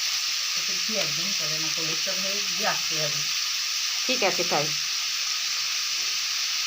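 Ingredients for a meat curry fry in a pan with ghee, giving a steady close sizzle throughout while someone speaks briefly over it in two short bursts.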